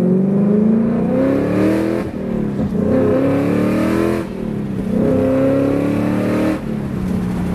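A Ford Mustang Mach 1's exhaust is revved repeatedly, each throaty rise held for about two seconds before dropping back and climbing again, loud and close with no talking.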